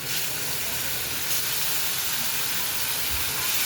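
Fish slide into hot oil and set off a loud, continuous hiss and sizzle that holds steady with no voices.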